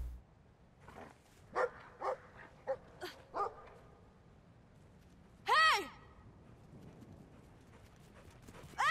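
A dog in the video game Brothers lets out a handful of short, spaced barks, followed by a louder drawn-out yelp or whine, with faint footsteps and background game sounds between them.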